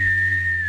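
A voice imitates the final shrill whistle of a recorder burning, one sustained steady high whistle lasting under a second, loud and close over a low hum.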